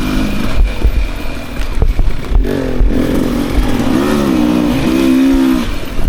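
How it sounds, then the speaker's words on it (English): A 2024 Beta 300 RR Race Edition two-stroke dirt bike engine revs loudly up close while being ridden, rising and falling in pitch with throttle changes and a buzzing, ringing drone. "Riding behind the gas here. This bike just wants to go."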